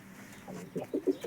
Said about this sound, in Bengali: এখানেও আছে ফেন্সি কবুতর, বেশি হচ্ছে যে সবগুলো গিরিবাজ।